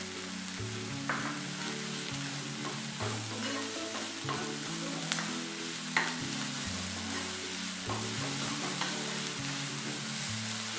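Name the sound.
drumstick leaves and onion sautéing in pan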